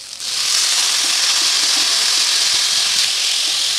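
Jackfruit pieces dropped into hot fried spice masala set off a loud, steady sizzle that holds close and continuous throughout, with no voices.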